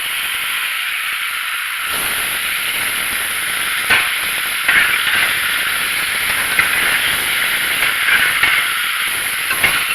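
Thin slices of pork and vegetables stir-fry in a pan over a high flame, giving a loud, continuous hissing sizzle with small crackling bursts and no talking.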